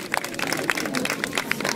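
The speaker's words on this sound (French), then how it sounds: "on s'applaudit tous les salles" A group applauds at a dog show with Dogue de Bordeaux and Poodle entrants in the ring, producing a steady wash of clapping with a few sharper individual claps standing out across the short stretch.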